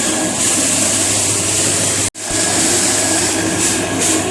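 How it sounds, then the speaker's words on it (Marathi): Loud, continuous mechanical roar of a rice threshing machine running close by, with one brief sharp dropout midway before the drone resumes. "आपण आता मशीनच्या सहाय्याने भात कसं जोडायचं ते बघत आहोत"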